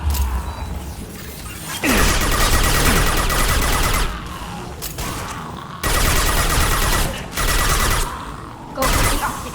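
Heavy gunfire in a firefight in the video game Mass Effect Legendary Edition, with loud sustained automatic bursts that cut in and out several times, dense with mechanical clatter and impacts and close to the listener.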